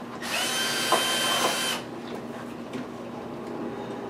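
A power drill runs at steady speed for about a second and a half, then stops, leaving quiet room noise with faint knocks.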